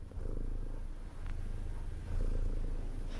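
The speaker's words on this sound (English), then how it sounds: "Oh, she's purring." A cat purrs in a low, steady rumble close to the microphone, continuous throughout and slightly stronger near the end, with no talking over it.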